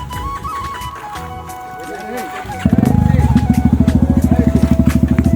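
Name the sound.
Kawasaki Z900 motorcycle with failing clutch plate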